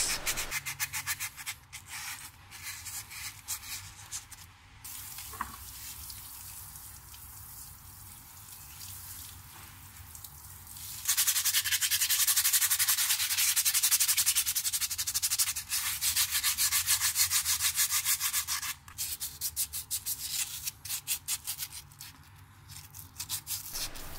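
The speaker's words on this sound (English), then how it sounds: "Then all you need to do is give the whole caliper a good sanding" A BMW E30 brake caliper is sanded by hand with a steady scratchy rubbing, quieter at first and then louder and more continuous in the second half, close up with no talking.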